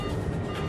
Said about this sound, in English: Suddenly, its onboard traffic collision avoidance system, TCAS, sounds an alert.